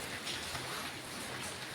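Heavy monsoon rain falls in a steady, unbroken wash of hissing noise, constant and enveloping, with no voices.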